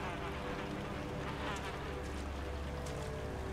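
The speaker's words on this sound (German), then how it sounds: "Boah, hier sind überall Mücken." Mosquitoes buzz inside a cave in the video game Far Cry Primal, a constant insect whine that sits over a low rumble of ambient noise with no speech.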